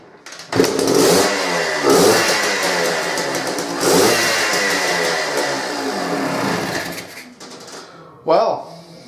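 An old Suzuki TS250 motorcycle, some forty-odd years old, with its choke on, starts up and revs in several loud, rising bursts close by, dropping back between throttle blips before a final short rev.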